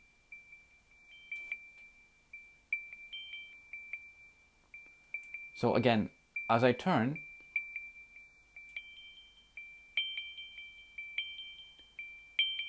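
Soundscape navigation app's audio beacon chime, repeated short tonal pings sounding steadily while the listener turns, with someone speaking over them.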